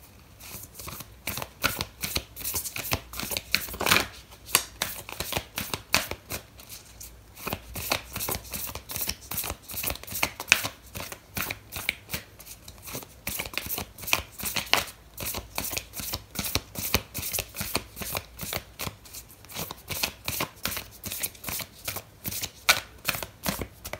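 Oracle cards being shuffled by hand in a long, steady run of rapid riffling flutters and soft papery slaps, close and fairly quiet, with no talking.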